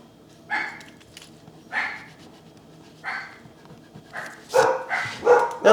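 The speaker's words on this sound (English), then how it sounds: "Dogs are barking." Dogs bark outdoors in short separate bursts, about six or seven spaced barks that come closer together and louder toward the end, with a faint background hum.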